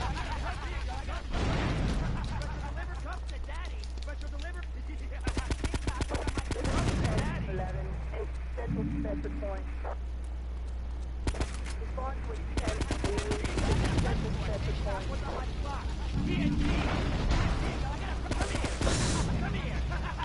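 Gunfire in GTA: rapid bursts of automatic shots come in several clusters under continuous talking.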